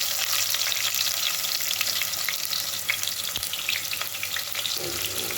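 Shallots frying in hot oil with fennel seeds for a roasted-spice country chicken curry: a loud, dense, continuous sizzle close up, with a single sharp clatter partway through and no voices.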